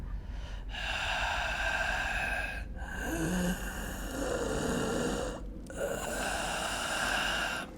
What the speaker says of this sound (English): this door is breathing